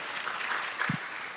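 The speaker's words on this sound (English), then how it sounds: "Please give a round of applause" Steady applause from an audience at an international economics conference, a dense patter of many hands with a brief low thump near the end.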